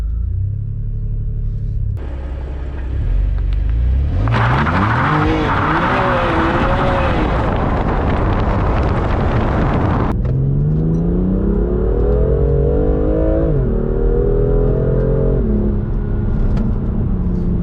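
A BMW M2 with turbos and stock exhaust drives hard, its raspy engine revving up and down through gear changes, with loud rising and falling tones and tire noise, close and continuous.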